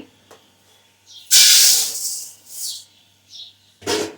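Jowar (sorghum) grain roasting in a pan, giving loud bursts of hissing and sizzling that come in several separate surges, close to the microphone.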